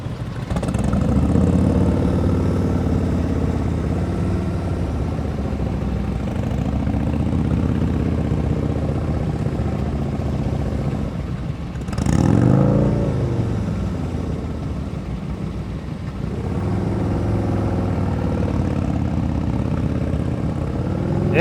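A motorcycle engine chugs along at low speed during slow-speed riding practice in Maryland, a steady, close, low rumble that swells briefly as the throttle rises, with no talking.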